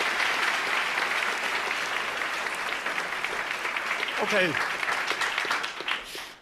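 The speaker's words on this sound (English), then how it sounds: "So a big applause" Steady audience applause rolls through an award ceremony hall, fairly distant and even, before a speaker's voice cuts in near the end.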